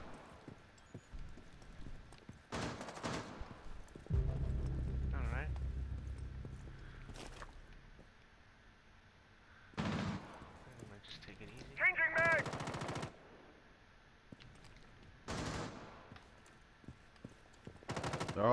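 Intermittent video game gunfire, short bursts and single shots scattered across the stretch, some near and loud, others quieter. A player speaks over it now and then, with reload and equipment sounds between the volleys.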